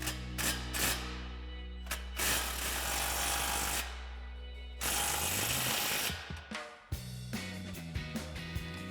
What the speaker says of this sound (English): Then we can tighten our clamp here